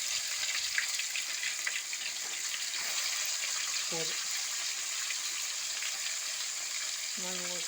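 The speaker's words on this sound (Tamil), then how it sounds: "இப்போ வந்து நம்ம வந்து எண்ணெயில் போட்டு பொரிச்சுக்கலாம்" Marinated fish fries in hot oil with a steady, bright, close-up hiss. Two short voiced sounds from a person cut in briefly partway through.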